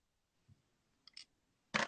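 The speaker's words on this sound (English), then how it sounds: "or you can cut off with your scissors." Faint clicks and soft rustles while tying a fishing fly, then one sharp, crisp snip of scissors cutting thread near the end, close and fairly loud.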